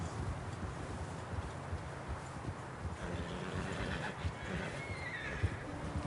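A horse in the Red Dead Redemption 2 game neighs and shuffles its hooves, fairly quiet and low in the mix over a soft outdoor ambience.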